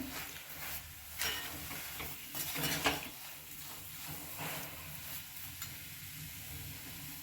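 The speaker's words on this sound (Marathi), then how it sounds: "आता आपण यामध्ये साखर घालून घेऊया। छान परतून घेऊया।" Sugar being stirred into reduced, thickened milk in a pan for carrot barfi, with a steady soft sizzle and scraping stir that runs continuously, fairly quiet, with no talking.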